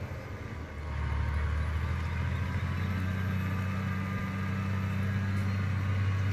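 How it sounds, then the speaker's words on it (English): A farm tractor engine in Farming Simulator 2017 drones steadily and loudly, swelling after the first second into a deep, constant idle-like hum with no pauses. "love the sound on this tractor"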